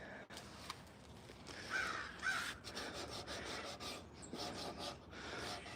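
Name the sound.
crows cawing in a backyard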